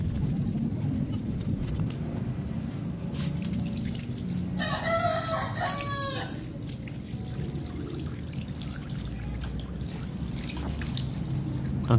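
Water poured over a rusty motorcycle spoke wheel during cleaning, a steady splashing trickle running throughout, close by, with a brief clattering burst partway through.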